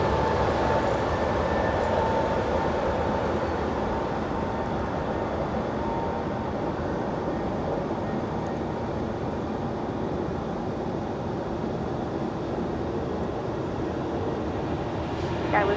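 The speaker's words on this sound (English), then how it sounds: "Now rolling down runway 25 left, departing to Luxembourg there in Germany." A Cargolux cargo plane rolls for takeoff on runway 25 left at LAX at night, a steady broad distant engine roar holding constant throughout, no talk.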